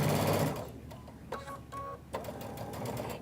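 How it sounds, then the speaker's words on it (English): Domestic sewing machine stitching a gently curved quarter-inch seam on fabric postcards, a soft quick mechanical whirr in short bursts with brief pauses, fairly quiet and close. "And I am sewing at a 1/4 inch seam from my edge."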